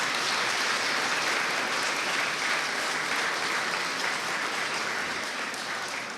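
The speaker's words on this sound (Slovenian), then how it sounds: "A lahko nagradimo naše državljančke z enim aplavzom, ko so prišli?" Audience applause fills a hall at the presidential palace during an open day, greeting children who have just arrived; steady, dense clapping holds at full level throughout and tapers slightly at the end.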